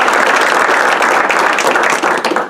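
An audience at a New York State fiscal 2020 budget event applauds a speaker's guest, a dense, loud, steady wash of many hands clapping that keeps going for the whole stretch.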